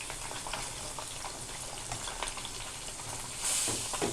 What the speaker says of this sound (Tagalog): kumulo na ang ating kinamatisang isda na hiwas